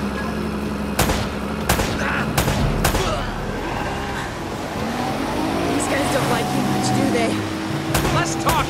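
A shootout in Uncharted: Drake's Fortune: scattered loud gunshots crack out in bursts over a low engine rumble, while voices talk between the shots.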